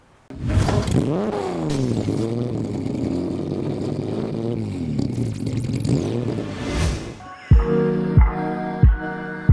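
A motorcycle engine revs hard through several rising and falling throttle blips, loud and close, then ends in a few sharp cracking pops as the revs drop.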